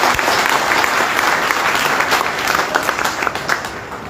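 An audience at a Hindi poetry recital stage event breaks into loud, sustained applause, dense clapping filling the hall steadily throughout with a faint murmur of the crowd.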